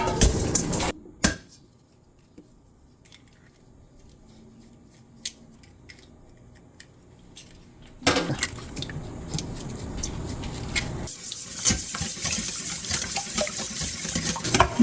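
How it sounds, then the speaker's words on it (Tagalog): Water pours into an egg mixture for breading fish fillets, a steady splashing stream that starts midway after quieter kitchen handling noises. "Lagyan natin ng tubig."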